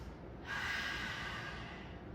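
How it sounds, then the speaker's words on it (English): A single long, soft exhale during a prenatal yoga class swells up and slowly fades, quiet and close in a still room. "3 deep breaths."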